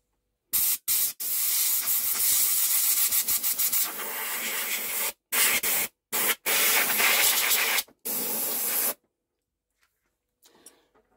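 A small air compressor blasts air to clean a Plank Norris 8 Super 50 projector, loud hissing bursts starting and stopping several times with short gaps, close up, then quiet.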